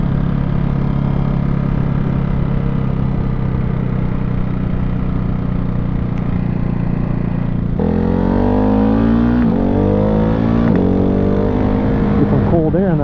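A Ducati Hypermotard 698 Mono single-cylinder motorcycle runs loud and close in the Arizona desert, a steady thumping drone that shifts into rising, revving pitch sweeps as it pulls away, with talk partly buried under the engine.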